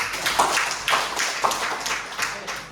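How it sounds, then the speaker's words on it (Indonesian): Classroom applause for a student group, a short burst of clapping from several pupils lasting a couple of seconds, fairly close and steady with light taps. "Tepuk tangan untuk kelompok."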